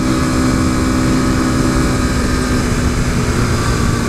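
A modded 2015 KTM RC 390 single-cylinder motorcycle engine drones steadily in fifth gear, a loud continuous hum mixed with rushing wind and no break in the note.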